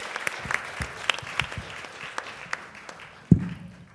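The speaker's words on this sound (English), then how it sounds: "Let's have a big round of applause for you guys." An audience applauds performers after an Alice in Wonderland show, with a moderately loud patter of clapping hands where individual claps stand out, ending with a sharp thump near the close.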